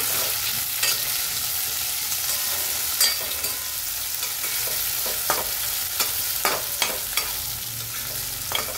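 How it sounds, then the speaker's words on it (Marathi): Tomatoes and onion are sautéed in a pan for a leftover-idli breakfast, giving a loud continuous sizzle with irregular scraping stir strokes every second or so and no talking. "आपण टोमॅटो टाकून घेऊ। टोमॅटोला पण परतून घेऊ।"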